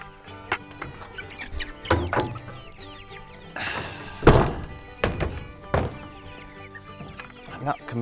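Broiler chickens cluck at feeding time on a farm, several birds calling in short bursts amid thumps and clatter of feed being handled.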